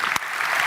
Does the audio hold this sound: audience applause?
yes